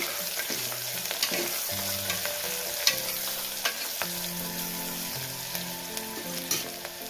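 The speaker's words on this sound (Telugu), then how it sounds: "ఇప్పుడు మనకు ఆనియన్స్ అనేది మంచి బ్రౌన్ కలర్ వచ్చే వరకు అయితే ఫ్రై చేసుకోవాలి." Onions with a pinch of turmeric frying toward brown for mutton paya soup, a continuous close sizzle broken by frequent spatula scrapes and taps, with no voices.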